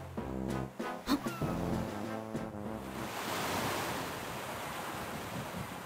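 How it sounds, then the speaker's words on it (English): Underwater ocean ambience from the video game The Legend of Zelda: Phantom Hourglass, a steady wash of surf-like rushing noise with low tonal music in the opening seconds, continuous and moderately loud with no talk. "The underwater noises are really, really bad."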